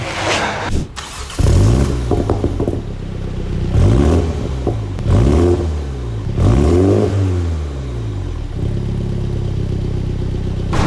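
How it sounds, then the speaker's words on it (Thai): A 2020 Mini GP revved repeatedly from idle, the exhaust roaring up and falling back in several loud sweeping bursts, with a brief start-up crackle and a settled idle between blips. "ทุกคนฟังเสียงท่อของเขาไปแล้วใช่ไหมครับ"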